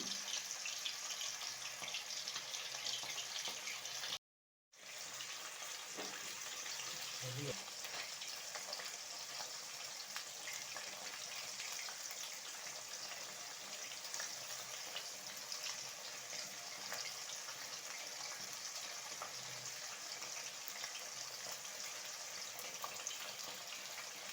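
Raw banana slices fry in very hot oil with a steady, dense sizzle. The sizzle breaks off for a moment and resumes, and a few faint knocks sound beneath it.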